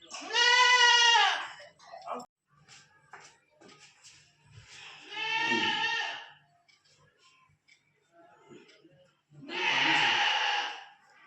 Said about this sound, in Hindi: दोस्तों, ये हमारे मोहल्ले की बकरी है